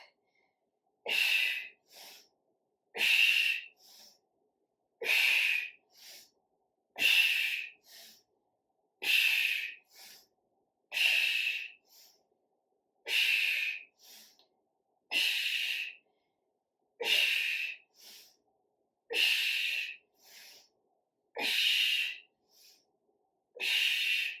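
Steady exercise breathing during a full-body workout, a dozen loud, rhythmic breaths spaced about two seconds apart, each a sharp airy exhale followed by a shorter inhale, close to the mic with no talk.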